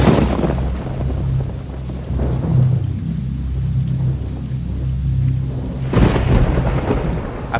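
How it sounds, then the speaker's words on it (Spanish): A thunderstorm over the city of Guanajuato at night: steady loud rain with deep rolling thunder rumbling throughout and a fresh heavy crack near the end, with no voices. "Aquella noche llovía en la ciudad de Guanajuato y los relámpagos y los truenos no daban un"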